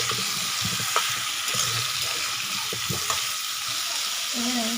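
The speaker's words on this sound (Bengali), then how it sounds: "এবার এর মধ্যে আমি দিয়ে দিচ্ছি কেটে রাখা বেগুনগুলো। দিয়ে বাকি সবজির সঙ্গে আমি মিশিয়ে নিচ্ছি।" Chopped eggplant frying in a pan of mixed vegetables while being stirred, giving a steady close hiss of sizzling oil broken by scraping and clacking utensil strokes.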